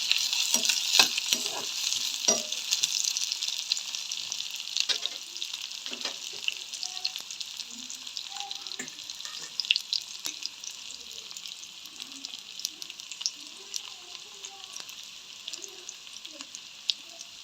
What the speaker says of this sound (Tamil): அதோட வந்து கருவேப்பிலையும் ரம்பையும் போட்டுக்கொள்வோம்.